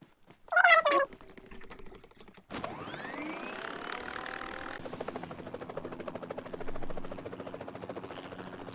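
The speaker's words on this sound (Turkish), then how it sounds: "Oh helikopter buldum." A helicopter in the mobile game PUBG Mobile spins up after a brief meowing blip, its rotor building to a fast, steady chopping pulse that stays loud and close to the end.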